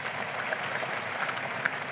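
A church congregation claps during a sermon by TB Joshua, a soft, even patter of many hands heard from some distance that holds steady without a voice over it.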